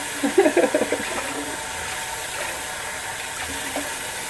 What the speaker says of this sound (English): I hope you can hear okay over the water.